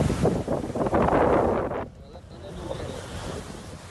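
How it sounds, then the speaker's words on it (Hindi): High ocean waves surge and crash on the coast as Cyclone Nivar nears Tamil Nadu, a loud roaring wash with heavy wind buffeting the microphone, then easing. "समुद्र में ऊंची ऊंची लहरें देखिए उठनी शुरू हो गई हैं"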